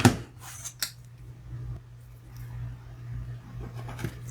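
Scissors or a blade cut material for a diecast car model, giving a few crisp snips close by over a low steady hum.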